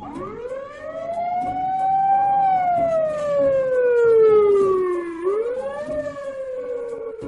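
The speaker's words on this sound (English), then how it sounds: "Ambulance." An ambulance siren wails loudly and continuously, its pitch sweeping up and down in long slow glides, close by with no voices.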